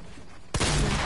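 A burst of video game gunfire erupts abruptly halfway through, loud and sustained, after a quieter stretch of background noise.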